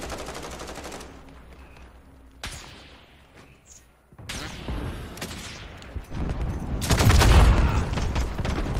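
Gunfire from Halo Big Team Battle gameplay, with a sniper rifle among the shots: bursts of loud, sharp reports that come and go and grow heavier and denser toward the end, mixed with other game noise.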